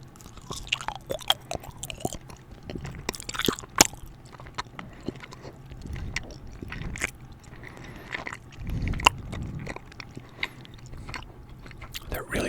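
Red-lips gummy candy chewed close to the mic in quiet ASMR style, with soft sticky squishing and occasional crunchy bites in an irregular rhythm, no talking.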